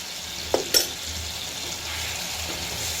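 Chili paste and ginger-garlic paste frying in a pan for an egg and tomato curry, a steady soft sizzle throughout with a couple of brief clatters of a utensil near the start.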